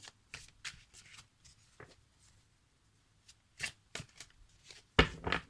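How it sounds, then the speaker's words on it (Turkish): Tarot cards shuffled by hand at close range, quick papery riffles and flicks in short irregular bursts with pauses between, ending in a louder flurry. "Şöyle de bir karıştıralım."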